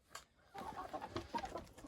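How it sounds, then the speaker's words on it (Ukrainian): Chickens and a rooster in a backyard poultry yard cluck in short, soft, uneven bursts close by, with faint rustling around them. "зараз випущу кури, бо вже півень верещить"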